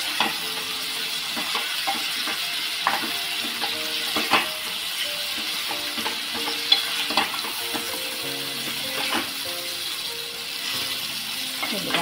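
Drumsticks and capsicum sautéed in a pan for a rustic Maharashtrian pithla, giving a steady sizzle with scattered scraping stir strokes and clinks, close and continuous with no talk.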